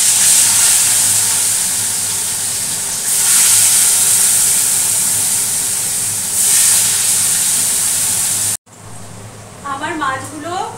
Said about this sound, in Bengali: এখন আমি কড়াতে তেল দিয়ে দিয়েছি মাছ ভাজবো বলে